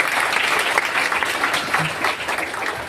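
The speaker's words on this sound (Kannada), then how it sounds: "ಒಂದು ಜೋರಾದ ಚಪ್ಪಾಳೆ ಬರಲಿ ನಮ್ಮ ಶಾಲೆ ವಿದ್ಯಾರ್ಥಿಗಳಿಗೆ" A school audience claps loudly and steadily for students honoured at a Children's Day school function, the dense applause continuing without pause throughout.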